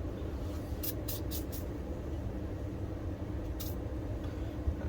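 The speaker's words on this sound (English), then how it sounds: "I'm going to take a little bit of Remington oil and I'm just going to kind of spray it just a little bit like that." Remington gun oil spritzed onto a cleaning rag from a spray can: several quick hissing bursts in a cluster early on, then one more short spray a moment later over a low steady background hum.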